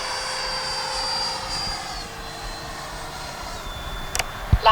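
A Freewing F-22 Raptor H.P. radio-controlled jet flies over a grassy field, giving a steady, sustained whine that slowly shifts in pitch, with a few sharp knocks near the end.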